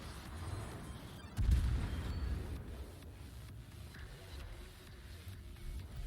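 A battleship firing high-explosive shells in the World of Warships naval game, one deep booming report followed by a rumbling tail that fades under steady engine and sea hum.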